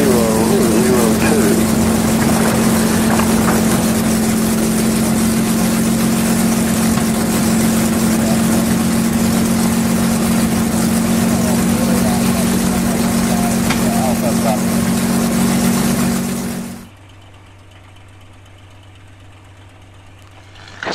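A P-51 Mustang's piston engine idles just after start at Stallion 51, a loud, steady low drone with voices over it, then it drops abruptly to a much quieter hum near the end.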